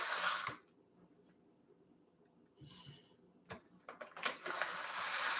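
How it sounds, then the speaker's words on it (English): Flax seeds being ground in a kitchen, a faint mechanical grinding and crunching with scattered clicks, quiet at first then swelling into a steadier, louder grind near the end. "And we're going to grind it up."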